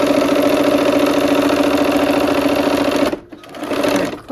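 A sewing machine runs steadily while stitching a quarter-inch seam on a quilt block, a continuous close mechanical whir that stops abruptly near the end, leaving faint handling noise.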